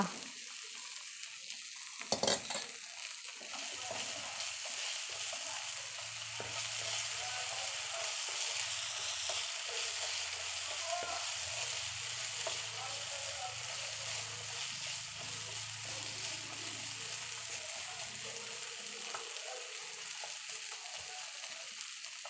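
Boiled jackfruit seeds are stir-fried for mezhukkupuratti in a pan, giving a steady hiss of hot oil with a few scraping stirs near the start, continuous and close throughout.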